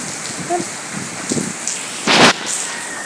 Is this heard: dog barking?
no